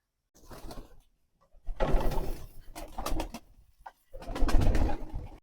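Pigeons cooing in bursts while they feed after rain, fairly close, with short pauses between soft rolling calls.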